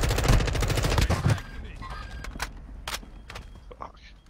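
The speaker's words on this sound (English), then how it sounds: "I'm being shot at" Rapid gunfire in Call of Duty: Warzone 2.0: a loud burst of shots at first, then scattered sharper single shots and footsteps, with players talking over it.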